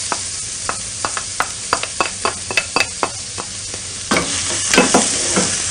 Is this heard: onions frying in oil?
yes